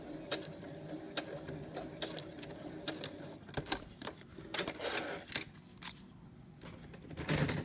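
A sewing machine stitches and backstitches fabric for a circle project, a faint rapid mechanical chatter with irregular clicks and ticks from the mechanism at a low level throughout.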